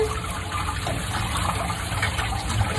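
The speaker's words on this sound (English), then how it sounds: "I'm actually using my fingers to rinse out the soap." Running water rinsing soap from a cat's thick fur during a home grooming bath, a steady close splashing flow with no speech.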